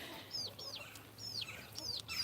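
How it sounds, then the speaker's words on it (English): Chickens with their hatchling chicks in a backyard garden coop, giving repeated high chirps and soft clucks at close range over faint outdoor background, with no talking. "We've got chickens. We've got baby chickens."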